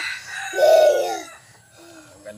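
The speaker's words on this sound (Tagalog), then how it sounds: "Gandang manok." A backyard gamefowl rooster, a red two-time winner, gives one loud, close crow that rises and holds for about a second, then fades into quieter clucking.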